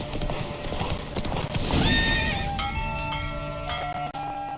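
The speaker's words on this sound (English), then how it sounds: "Don't spare the horse." Horses gallop in a race in The Witcher 3, with steady hoof clip-clops and a sharp neigh, followed by ringing, sustained tones as the run finishes.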